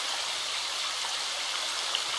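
Continuous flowing water in The Forest video game, a steady stream-like rush that holds evenly throughout with no voices.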